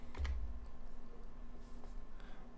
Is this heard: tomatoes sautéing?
no